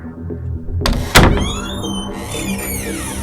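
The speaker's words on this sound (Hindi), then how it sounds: "ताकत लगाकर आनंद ने दरवाजे को खोल दिया।" A door forced open in a horror tale: a heavy thunk and scrape, then a long creaking squeal that trails off into a sustained eerie tone.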